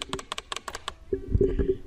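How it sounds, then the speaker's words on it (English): Gaming mouse clicks, a quick run of crisp close-up taps in an irregular rhythm, followed by softer handling noise and faint muffled sounds. "because you guys don't want to hear these mouse clicks"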